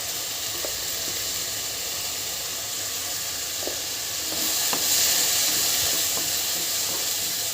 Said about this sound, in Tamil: ஒரு 2 மினிட்ஸ் வந்து வதக்கிக்கோங்க.